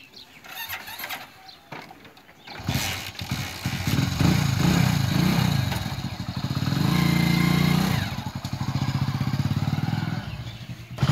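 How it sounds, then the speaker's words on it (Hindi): A Hero HF Deluxe motorcycle in a village setting is kicked over and starts after about two seconds of quiet, then idles and revs nearby with a rising and falling engine note, with faint birds in the background. "चलिए अब स्टार्ट करते हैं गाड़ी।"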